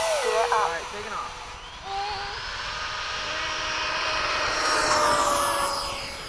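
A small RC model jet, a Freewing 90mm F/A-18, whines and rises in pitch as it spools up and takes off, with a brief voice at the start.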